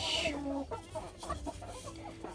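A hen clucks several times in short, throaty bursts, close by, with a brief higher cackle at the start and faint farmyard background.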